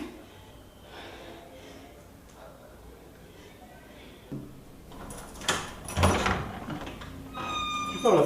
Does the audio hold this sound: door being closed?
yes